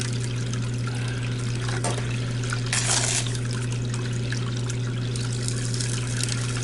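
Warm water runs steadily from a tap while paydirt is washed, a continuous close trickle with a brief splashier burst partway through.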